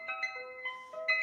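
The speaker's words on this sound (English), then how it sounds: "It's a very fast ice cream truck." A sped-up ice cream truck jingle, its bright electronic tones hopping quickly through a short melody, heard alone and moderately loud.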